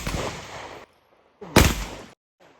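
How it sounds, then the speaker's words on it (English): Two loud buckshot blasts from a TS-12 horizontal-magazine shotgun on an outdoor range, each a sharp close boom with a decaying tail, separated by a short silence, with a faint third onset at the end. "It's gonna auto load that first round of buckshot. There it goes. And let's go ahead and shoot."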